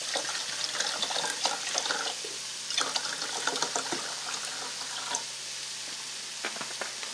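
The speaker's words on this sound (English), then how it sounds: "I'm gonna pour about 16 ounces of water." Water poured into a Stanley frypan set on a Fancy Feast alcohol stove, a soft, fairly faint splashing and trickling with irregular bursts that goes on steadily throughout.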